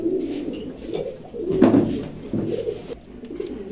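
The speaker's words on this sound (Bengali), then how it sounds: "এরকম ডাকের কবুতর অনেকে খুঁজে, আমি দিতে পারি না।" Pigeons, a pair of red Gorra birds kept for sale, coo repeatedly in a low throaty pulse, with one louder, fuller coo at the middle of the clip and no voices.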